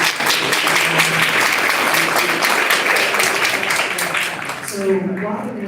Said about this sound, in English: So let's give the mayor another round of applause.